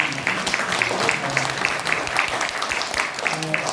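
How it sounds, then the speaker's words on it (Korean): Audience applause at a Korean history lecture, a moderate spread of clapping running steadily under ongoing talk, fairly distant and not very loud. "여러분 다시 한번 큰 박수 부탁드립니다"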